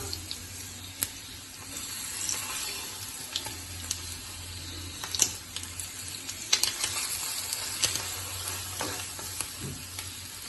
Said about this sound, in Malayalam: എല്ലാ ഭാഗവും തിരിച്ചും മറിച്ചിട്ടൊക്കെ നന്നായിട്ട് ഫ്രൈ ചെയ്തെടുക്കട്ടോ